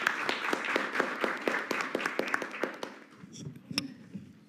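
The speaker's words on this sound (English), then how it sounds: "let's give an applause once again for the presenters" A modest conference audience clapping for session presenters: evenly spaced, crisp claps for a few seconds, then thinning out to quiet room noise with a couple of stray knocks.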